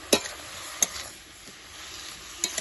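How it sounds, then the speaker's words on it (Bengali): Spice paste with salt is stirred in a pan over a low sizzle, with a few sharp spatula knocks at uneven intervals close by, with no speech. "দিয়ে মশলাটাকে একটু ভালোভাবে নাড়াচাড়া করে"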